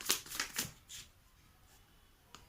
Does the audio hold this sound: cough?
no